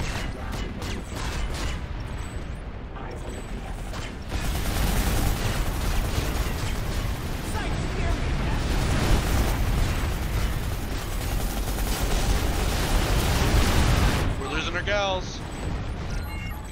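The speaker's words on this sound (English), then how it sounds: "All ground guns, fire!" Ground guns open fire in Planetside 2 during a fleet battle, a sustained loud roar of rapid gunfire and rumbling explosions that swells after a few seconds, with voices talking over it.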